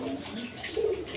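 Rajgolla pigeon pair cooing at a pigeon sale, a soft close coo in a short burst with faint background noise.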